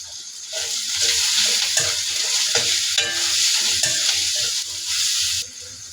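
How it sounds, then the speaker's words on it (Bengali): Onion, chili and ginger frying in a pan, a loud continuous sizzle broken by repeated scraping stirs of a utensil, with no talking, until the noise suddenly drops away at the end. "এখন পেঁয়াজ মরিচটা আদা ভাজা হয়ে গেছে"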